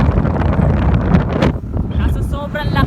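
Strong, cold wind roars steadily and loudly across a microphone outdoors in a rural province, with gusty buffeting throughout and a faint voice near the end.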